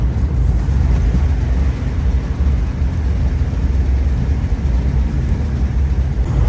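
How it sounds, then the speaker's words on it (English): Busy road traffic on a Friday afternoon near Thetford Forest, a loud continuous rumble of cars and heavier vehicles passing close by, dense and unbroken throughout. "Well, traffic has been horrendous"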